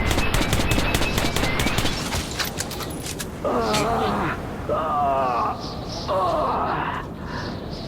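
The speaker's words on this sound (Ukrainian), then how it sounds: "Стріляй, Артем!" Rapid bursts of automatic gunfire in the video game Metro 2033 Redux crackle through the opening seconds, followed by shouted voices and sporadic mechanical noises amid continued battle ambience.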